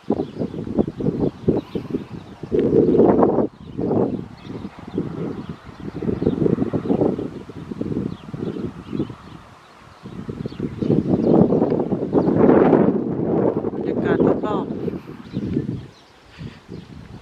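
Strong wind gusts buffet the microphone outdoors at an animal farm where cows lie nearby, rising and falling in loud roaring bursts with brief lulls.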